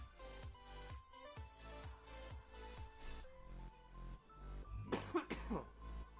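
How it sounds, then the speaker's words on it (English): A man coughs a couple of times near the end, close and fairly loud, after a stretch of quiet background music with soft tones during a livestream. "I'll get rid of the cough in just a second."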